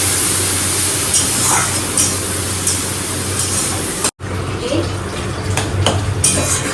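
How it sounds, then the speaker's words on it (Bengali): Dry chillies, bay leaf and panch phoron tempering in a pot in a home kitchen, heard as a steady sizzling hiss broken by metal clinks and scrapes of utensils against cookware, close by with no talk. "এখানে ফোড়ন দিয়ে দিচ্ছি শুকনো লঙ্কা তেজপাতা আর পাঁচফোড়ন"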